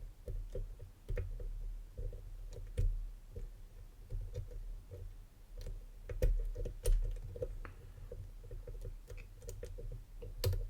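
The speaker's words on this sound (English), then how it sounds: "We've got it pin 2, just a little click on that." Pins in a BASI BM dimple lock are picked with pulsed tension, producing small, close, irregular clicks and ticks, faint and scattered throughout.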